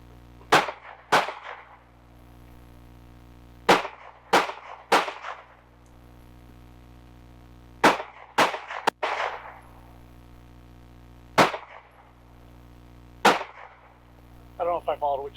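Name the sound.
handgun shots fired from awkward shooting stances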